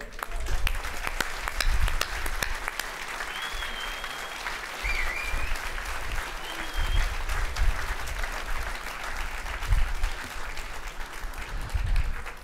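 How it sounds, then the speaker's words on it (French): An audience at an awards ceremony breaks into sustained applause to welcome a young woman to the stage, a steady dense wash of clapping over a low room rumble with a faint whistle or two. "nous accueillons sous vos applaudissements mademoiselle Thaïs Descuffon"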